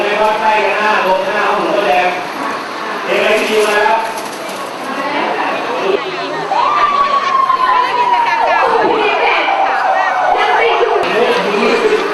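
Crowd cheering and applauding for an operating room team of doctors and nurses during a hospital fire drill in Thailand, a broad dense roar running throughout, with a PA-style voice speaking over it and a rising tone sweeping in midway.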